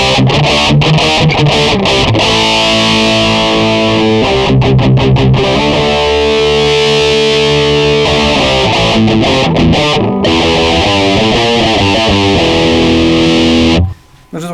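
A Harley Benton ST-JAMster electric guitar plays through heavy distortion, with loud, thick chords and riffs changing every second or two. The full, driven tone runs almost continuously for about fourteen seconds before a brief cut near the end.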